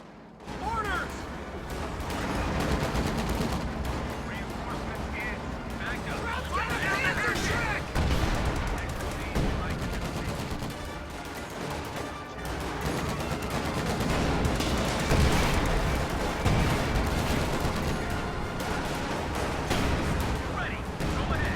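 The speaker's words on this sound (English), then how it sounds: "High explosive barrage coming in." Heavy high-explosive artillery barrage in a WWII-style strategy game, with dense, overlapping booms and crashes rolling continuously across the whole stretch alongside scattered gunfire, loud and sustained with a voice talking over it.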